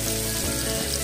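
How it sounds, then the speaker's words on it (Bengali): Bitter gourd frying unsalted in hot oil, a steady dense sizzle close up with a low bubbling rumble underneath and brief dips in the crackle, no voices. "তেলটা গরম হলে আমি এর মধ্যে করলা দেবো"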